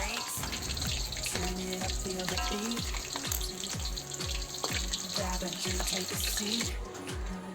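Fish frying in hot oil gives a steady, loud sizzle and crackle up close, running without a break the whole time, with a few clinks of a utensil in the pan.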